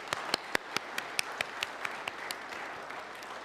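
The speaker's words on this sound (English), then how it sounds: "Let's have another big round of applause for our guest soprano, Hillary Park." A small congregation claps for a guest soprano at a service. The separate, crisp handclaps are close and fairly quiet, fall in a steady, quick rhythm and gradually thin out and fade over a few seconds.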